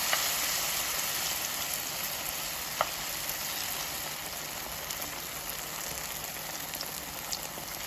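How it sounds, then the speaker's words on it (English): Steady, continuous sizzling of Jamaican saltfish fritters frying in hot oil, a dense crackling hiss with occasional small pops, no talking. "These are going to fry"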